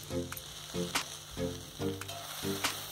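Vegetables with salt, for a Maggi masala dish, sizzle in a pan while a spatula stirs them in regular strokes, each scrape landing roughly every half second over the steady frying hiss, close and clear with no talk.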